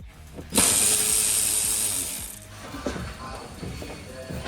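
A ratchet is worked hard while removing the front bumper of a Nissan S13 240SX during an 800hp build; a loud, dense burst of rapid clicking is followed by quieter, intermittent clicks and shop clatter.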